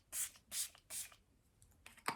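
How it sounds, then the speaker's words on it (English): Three quick hissing spritzes of Milani Make It Last setting spray, close by and evenly spaced, followed by softer faint rustling. "I'm gonna go in and spray all this"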